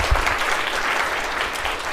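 Dense, steady applause fills the room at a science symposium, a full audience clapping together at even strength throughout with no voices over it.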